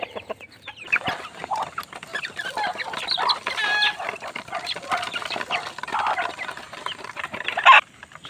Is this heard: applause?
no